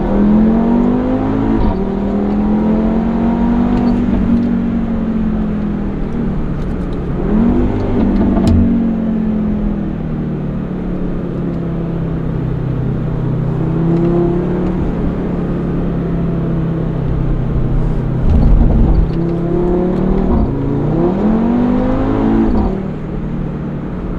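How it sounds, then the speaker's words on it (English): A 2015 Audi RS3 Sportback's five-cylinder engine pulls hard under acceleration, its loud, gravelly drone rising through the revs with brief dips at gear changes, heard close and continuous from inside the car with no talking. "we're going to accelerate one last time for you guys and listen to the 5-cylinder."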